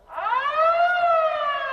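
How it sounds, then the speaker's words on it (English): A siren wails near a rugby league field at an Emerging Nations match between Turkey and Vanuatu, a loud, steady rising tone that swells in quickly and holds alone without talk. "We'll ignore that siren. That is for field number 1."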